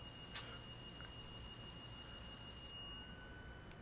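Door-locking chime on a Harlem Line commuter train in Train Sim World 2: a steady, bright electronic tone held for under three seconds over a low cab hum, then cutting off.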